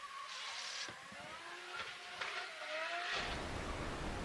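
Race car drifting around a circuit course, engine revving and rising in pitch with bursts of tire squeal, fairly distant and continuous, ending in a louder rush of wheelspin and engine noise.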